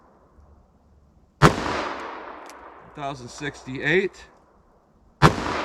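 Two sharp .44 Special revolver shots firing 240 grain bullets at an outdoor range, loud and close, spaced about four seconds apart, with someone speaking briefly between them.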